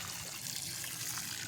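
Collected rainwater is poured onto a newly planted carnivorous plant bog, a brief, close, continuous splashing trickle of water hitting the soil.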